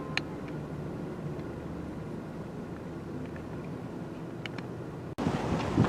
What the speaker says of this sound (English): We've got some crazy 25-mile-per-hour winds out today